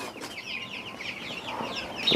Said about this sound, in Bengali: এখানে যে আপনারা মুরগিগুলো দেখতে পাচ্ছেন এক মাস বয়সের কলম্বিয়ান লাইট ভ্রামার বাচ্চা